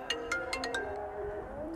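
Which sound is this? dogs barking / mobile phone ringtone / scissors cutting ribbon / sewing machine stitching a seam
mobile phone ringtone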